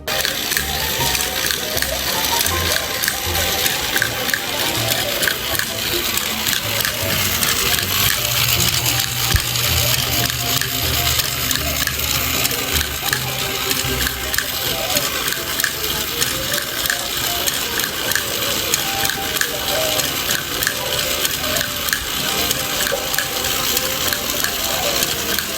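A coin changer for a pisonet rental computer whirs steadily while coins spin and rattle continuously through its four slots during a test, loud and close throughout with no talking.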